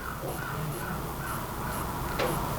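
Crows caw in a few short, repeated calls at a distance, faint over a steady, hissy outdoor background with no talking.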